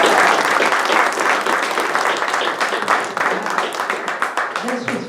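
An audience at a talk on cast iron cooking applauds the speaker, loud clapping at first that thins out into scattered individual claps, with a voice starting up near the end.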